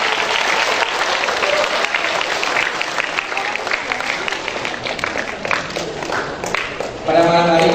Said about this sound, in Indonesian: Kita berikan aplaus yang meriah.